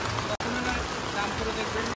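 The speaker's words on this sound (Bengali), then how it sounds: "বৃষ্টি এখনো কমার নাম নেই" Steady hiss of heavy rain falling on surfaces in Puri, Odisha, with a brief break early on; muffled voices can be made out beneath the downpour.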